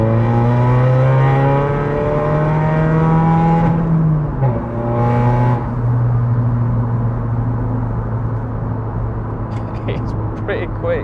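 Seat Ibiza 2.0 TDI diesel hatchback tuned to about 253 bhp accelerating hard from around 40 mph in traffic, a loud, steadily climbing engine drone with a brief dip at a gear change, then pulling again under continuous cabin rumble.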